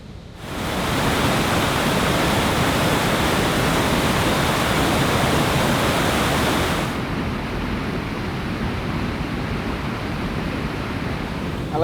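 A waterfall rushes near a wilderness campsite as a loud, continuous broadband roar that fades in at the start and dulls slightly partway through, with no talking.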